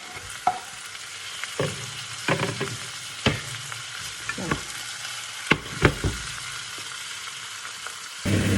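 Mushrooms and tomato frying in a pan, a low sizzle broken up by the sharp scrapes and clacks of stirring at uneven intervals, close and with no talking.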